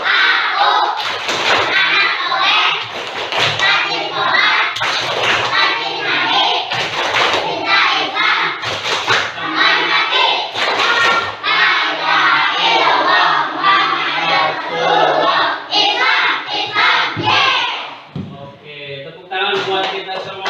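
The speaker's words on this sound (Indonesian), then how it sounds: "Coba tepuk anak soleh." A fourth-grade class chants the tepuk anak soleh routine in unison, children's voices rising and falling over sharp rhythmic hand claps that repeat steadily throughout, loud and close in the classroom.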